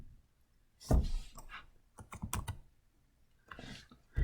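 Faint clicks and taps of keys being typed in short irregular bursts on a keyboard, with quiet pauses between.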